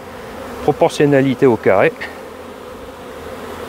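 Honeybees from two swarms crowd a packed hive, their dense buzzing hum running steadily throughout while someone briefly speaks over it in French.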